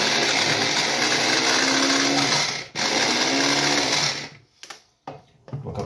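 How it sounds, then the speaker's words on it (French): A blender whirring loudly and continuously as it purées mushrooms, briefly dipping once, then stopping and restarting in short bursts. "il n'y a plus qu'à mixer tous nos champignons"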